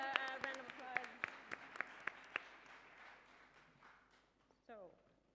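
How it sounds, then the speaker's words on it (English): Scattered, faint clapping from a small gathering at a history and activism event honors a group of people: about eight sharp, separate claps sound in the first half, then taper off into quiet room tone. "can we just give our group a round of applause"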